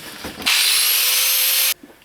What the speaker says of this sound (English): I'm just going to cut off the ends of the drill bit that I don't want, so I'm using an angle grinder for that